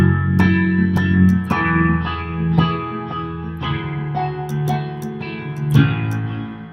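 Keys play a worship song, with an acoustic part in the background: struck chords ring out in a steady pulse with a spacious, effected tone, heard alone.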